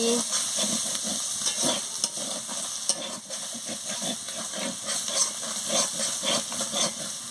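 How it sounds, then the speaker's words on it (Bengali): Spice paste with turmeric and chili powder frying in a pan for a banana flower chorchori, a steady bright sizzle with repeated soft scraping strokes of stirring throughout, close and fairly loud, no talking. "মশলাটাকে ভালো করে কষিয়ে নিচ্ছি"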